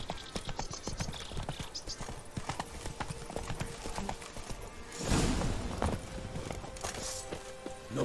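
Horse hooves clip-clop at a steady walking rhythm in The Witcher 3: Blood and Wine, close and clear, with a brief swell of rustling noise in the middle.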